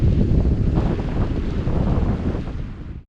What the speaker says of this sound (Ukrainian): Геть недалеко, тому що у нас вітер. І хороший вітер.